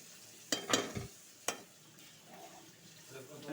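Jackfruit curry ingredients fry in ghee in a pan, soft sizzling under a few sharp spoon scrapes and clinks against the pan, fairly quiet and close.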